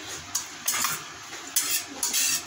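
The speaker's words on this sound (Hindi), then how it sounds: "इसमें मैं थोड़ा गोला ये थोड़ा सा रोस्ट कर लेती हूँ आँच हल्की करके" A spoon stirs grated coconut dry-roasting in a pan over a low flame with no ghee or oil, giving a few short scraping and rustling bursts at close range.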